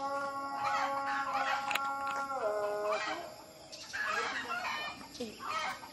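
Chickens at a village home in Rembau cluck and a rooster crows, with a sustained harmonic crow near the start and scattered clucks after, fairly close over faint background noise.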